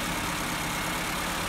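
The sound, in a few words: car engine idling at too high RPM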